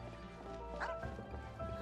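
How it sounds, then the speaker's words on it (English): A puppy in the video game Genshin Impact gives a few short yips and barks over steady game music and ambience, moderately loud and close. "oh, look at the puppy."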